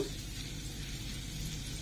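Butter sizzling in a pan over low heat, a dense, even frying hiss that holds steady and close for the whole short stretch, with no voices.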